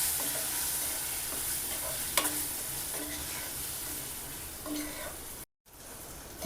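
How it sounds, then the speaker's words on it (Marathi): Semolina and sugar-soaked pineapple being sautéed in a pan for pineapple sheera, a soft steady sizzle with occasional spatula scrapes, fairly quiet and close, with a brief dropout near the end. "आता आपण याच्यामध्ये रव्यामध्ये पाइनएपल टाकून देऊया। चांगला आपण परतून घेऊया याच्यामध्ये"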